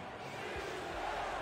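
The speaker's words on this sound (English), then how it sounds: "OKC's crowd getting loud, trying to will their team to a stop." An Oklahoma City football crowd roars during a home game as the opponent faces a big third down, a steady, dense wash of cheering and noise with no break.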